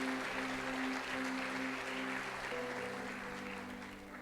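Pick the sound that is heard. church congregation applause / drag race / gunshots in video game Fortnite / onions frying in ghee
church congregation applause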